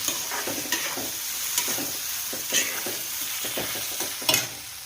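Potatoes frying in a kadhai while being stirred, with a steady sizzle throughout and repeated scraping clicks and knocks of the spoon against the pan, no voices.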